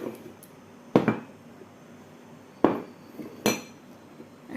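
Cups and dishes clink in a home kitchen while tea is being made in a pan, with three separate sharp knocks spread across a quiet background.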